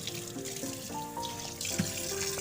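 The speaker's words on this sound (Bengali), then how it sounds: "কলের নিচে কলটা ছেড়ে ভালো করে আঠাগুলো ধুয়ে নেবো" Tap water running over small pieces of young jackfruit at a sink, a steady gushing stream with clinks and shifting splashes as the pieces are rinsed.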